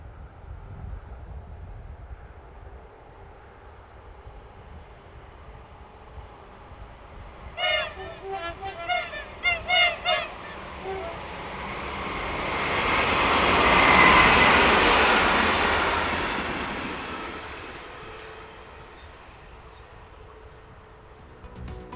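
French locomotive 61009, now renumbered 1146 and working for private operator Regio Rail, rumbling closer and passing, with a few short horn notes and metallic squeals mid-pass, then the rolling noise swelling loud and fading away.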